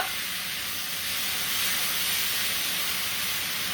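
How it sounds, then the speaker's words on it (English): Orecchiette with Brussels sprouts and broccoli sizzling in a pan, a steady, dense frying hiss held evenly and close for a few seconds with no talk. "Listen to that sizzle."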